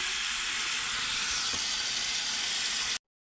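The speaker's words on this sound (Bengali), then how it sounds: "ভালো করে নাড়িয়ে আমি কাঁকড়াগুলোকে ভালো করে ভেজে নিচ্ছি।" Crabs fry in hot oil in a pan for a spicy crab dish, giving a steady, loud, bright sizzle that runs unbroken for about three seconds before cutting off abruptly.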